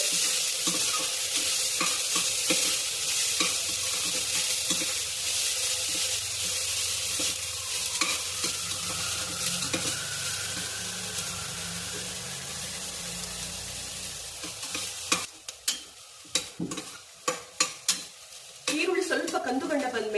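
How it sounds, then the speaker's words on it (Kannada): Chopped onions sizzle and fry in a pan for palak rice while a spoon stirs them, steady hissing with intermittent scraping clacks that grow sharper and more spaced toward the end. "ಈರುಳ್ಳಿ ಸ್ವಲ್ಪ ಹಸಿ ವಾಸನೆ ಹೋಗೋವರೆಗೂ ಫ್ರೈ ಮಾಡ್ಕೊತಾ ಇದ್ದೀವಿ"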